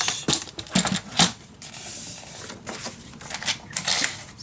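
Paper being cut to size for a 6-inch pocket in a steampunk dos-a-dos mini album, giving a run of close, crisp, uneven snipping and rasping strokes with brief pauses between them and no talk.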